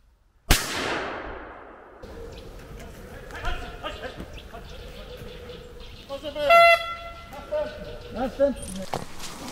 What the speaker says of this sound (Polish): Konkurs zaczynamy od sprawdzenia reakcji psów na strzał.